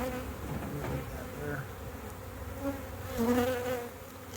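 Honey bees buzzing around honey frames pulled from a hive, a soft, continuous droning hum with individual bees swelling closer and fading, fairly faint overall.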